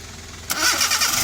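An engine cranks and catches, jumping from near silence into a loud, steady running roar close by.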